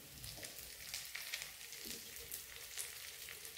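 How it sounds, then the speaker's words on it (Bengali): Curry leaves fry in hot oil, giving a soft, steady sizzle and crackle close by with no talking. "সেই কারি পাতাটা এই গরম তেলে একটু দিতে হবে।"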